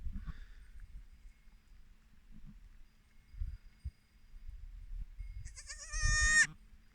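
A single high, wavering goat bleat near the end, loud and close, after several seconds of quiet outdoor rustling and soft thumps, on a sunny January day with goats giving birth.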